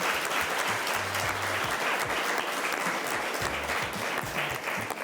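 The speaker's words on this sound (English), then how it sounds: "All give them a big round of applause." Steady, dense applause from an audience at a live show for the Ultra Trail Australia women's trail event, continuous and even throughout with no break.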